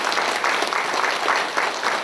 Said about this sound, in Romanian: rog toate gazdele să aplaude musafirii